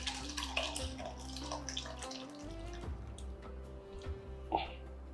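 Nannari root rasam poured from a vessel into a bowl: a steady liquid trickle and splash, close and continuous, with a few soft clinks and drips near the end.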